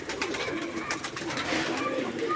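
Giribaz pigeons in a loft give a steady, close, low cooing murmur throughout, with a faint background voice.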